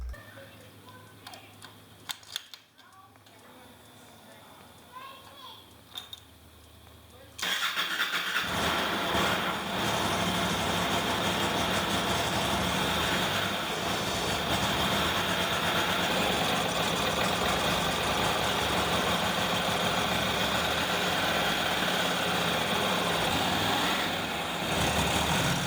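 Motorcycle engine cranks after an oil top-up, catches and settles into a steady, loud, continuous idle, preceded by a few quiet ticks and clicks.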